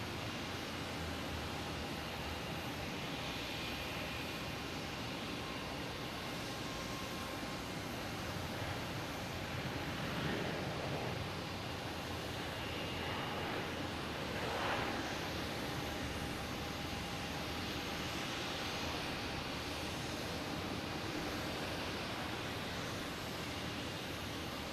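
A Delta Airbus A321neo arriving from Las Vegas at Boston Logan passes as a faint, steady broadband jet roar at a distance, swelling slightly midway under constant background hiss.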